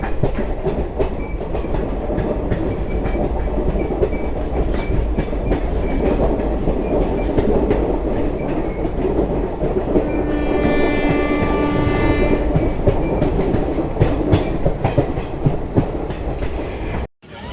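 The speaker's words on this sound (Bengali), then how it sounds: "পুরো জঙ্গলের ভেতর দিয়ে ট্রেনটা যাচ্ছে" A train runs steadily through forest on the Haridwar to Dehradun line, its continuous rumble and rhythmic wheel clatter carrying close and loud throughout, with a brief tonal horn-like stretch in the middle and no talking.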